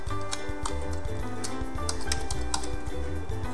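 Steady typing on a computer keyboard while entering a video title into a search box, a rapid, even run of close clicking keystrokes with no talk.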